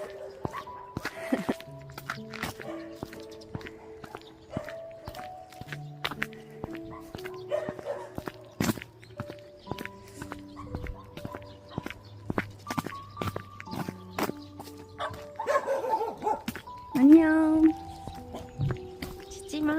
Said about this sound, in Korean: 동네개다짖네요